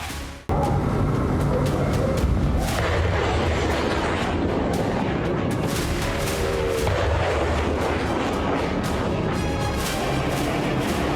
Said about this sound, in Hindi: मिडिल ईस्ट में बमबारी हो रही है।